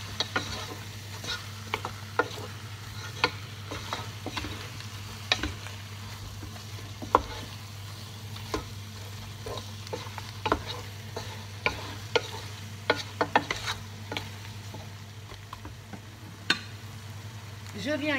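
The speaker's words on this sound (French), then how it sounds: "Je vais mélanger le tout." Floured rabbit pieces stirred in a pan, a soft low sizzle under a steady hum, with scattered scraping and tapping utensil strokes.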